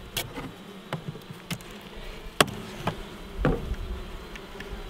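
Honeybees on an open hive frame in late August, giving a low steady hum with a few sharper buzzes as single bees fly close past, and a brief louder rustle near the middle. Nobody talks.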